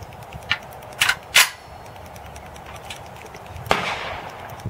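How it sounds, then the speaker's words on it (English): M1A rifle firing .308 168-grain Ultramax rounds outdoors: a few sharp cracking shots, two close together then another after a pause, loud and near, with a quieter report and faint background noise between. "And again, we're shooting a 168 Ultramax."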